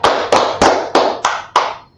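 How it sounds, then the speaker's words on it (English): Six sharp, evenly spaced hand claps from a small group at a religious brotherhood class, loud and close, each one decaying quickly before the next. "Let's first clap it up for the Most High God."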